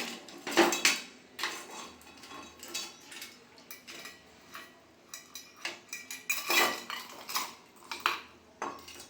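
Metal anklets, freshly cleaned, being dropped into a bowl give off several clinking, jangling metallic impacts in irregular bursts, close and fairly quiet, with no talking.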